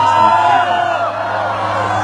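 A concert crowd at a show in Beijing roars and whoops, a dense, sustained wall of cheering with yells rising out of it, loud and continuous throughout.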